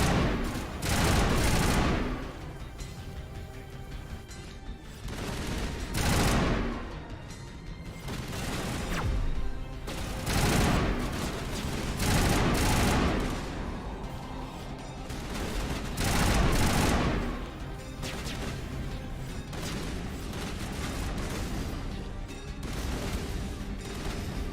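Bursts of gunfire in the video game Mass Effect Legendary Edition, repeated loud volleys that come in waves over about twenty seconds with dense combat noise between them.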